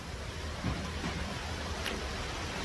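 Steady rain falling outdoors in Cavite, a broad continuous hiss with no distinct drops or voices.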